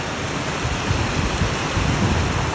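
Water from a fountain at Wat Ta Ngoi pours in a steady, loud, broadband rush that stays continuous and unchanging throughout, with no voices over it.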